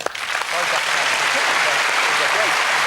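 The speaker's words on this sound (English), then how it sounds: "I think a round of applause for both." A crowd breaks into a loud, sustained round of applause for a mountain biker and a rally driver after their close contest, with faint voices at the start before the clapping swells and holds.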